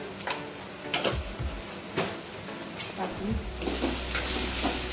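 Onion and tomato fry in a pan with red chilli masala and turmeric, a steady sizzle broken by scraping stirs and a few clinks of a spoon against the pan, close by and fairly loud.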